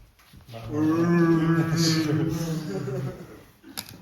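A human voice imitates a flying sky bison's long, low groaning moan, sustained for a few seconds and close to the microphone.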